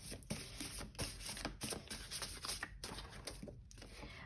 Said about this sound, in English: So I said I wasn't going to be shuffling, and then I ended up shuffling